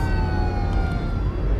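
Emergency vehicle sirens in the Cities Skylines 2 city-building game, steady wailing tones that slowly glide in pitch over a constant low rumble of traffic, loud and continuous with no talk.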